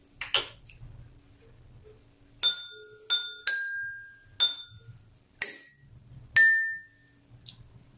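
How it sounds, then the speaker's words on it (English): Water-filled drinking glasses struck like a xylophone play the Happy Birthday tune, a sequence of clear ringing glass notes with short decays, separate and close in a quiet room. "I wonder what songs you'll make with your water xylophone at home"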